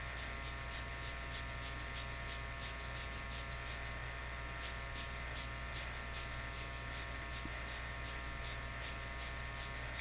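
A heat tool drying alcohol ink for flower artwork blows a steady, close whirring hum with a hissing airflow edge that runs unbroken for the whole stretch, with no talking.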